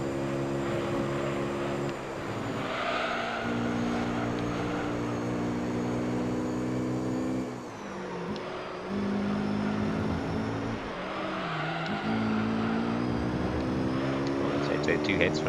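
Racing car engines from Gran Turismo 3 drone loud and steady with shifting harmonic pitch, dipping briefly as the cars lift off and rise again while chasing a Subaru Impreza, with commentary talked over the top.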